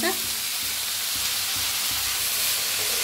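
Potatoes and moth beans roast in a pan with a steady, close sizzle of frying, and a spoon stirs through them now and then.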